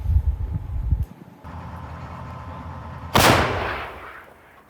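Low rumbling at first, then a single loud blast from a Ukrainian territorial defense artillery gun bursts out and its roar slowly fades away, heard outdoors with no talking.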